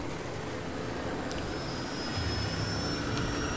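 Helicopters in the video game Spec Ops: The Line give off a continuous, dense rotor and engine drone that holds steady throughout the short stretch.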